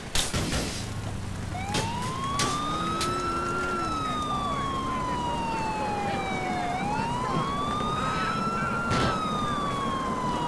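A police car siren wails steadily in the video game GTA IV, rising and falling in a long sweep over continuous engine and driving noise. A few sharp crashes cut in along the way, and no one speaks.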